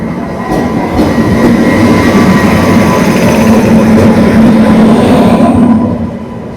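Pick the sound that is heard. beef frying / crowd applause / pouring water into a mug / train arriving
train arriving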